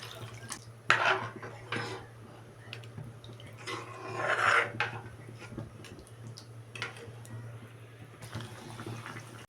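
Water poured into a cooking pot while making fish curry in a home kitchen, with splashes and clinks of metal utensils against the pot, over a steady low hum, no talking.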